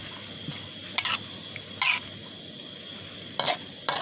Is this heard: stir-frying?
yes